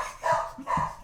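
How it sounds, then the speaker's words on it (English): A couple of dogs give two short, sharp barks, close and fairly loud, with a brief gap between them. "the dogs are pissed off already"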